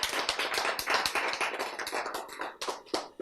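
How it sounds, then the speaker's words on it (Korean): Scattered, uneven clapping from an audience at a lecture on gene regulation, crisp and fairly close, building into a loose round of applause with no voices. "박수, 맞아요."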